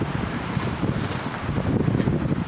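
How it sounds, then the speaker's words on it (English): A strong gale buffets the microphone outdoors at a steel boat build, a loud, continuous rumbling roar with rising and falling surges, no voices present. "It's blowing a gale here currently."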